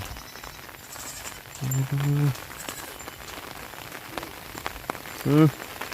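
Steady rain falling and pattering on surfaces outdoors, a continuous hiss throughout, with a couple of brief tonal calls or voices cutting in over the downpour.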